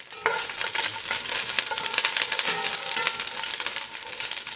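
Ginger sizzles and crackles in a hot oiled pan as it is stirred for fish sinigang, a steady close frying hiss with sharp scraping stirs and no voices.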